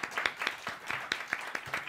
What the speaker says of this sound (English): Let's give Larry another round of applause.